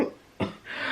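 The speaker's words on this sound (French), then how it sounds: "Oui, je tousse, je vous ai pas dit aussi." A woman with a cough lasting several days coughs once sharply mid-clip, close and fairly quiet, between softer breathy sounds in an indoor setting.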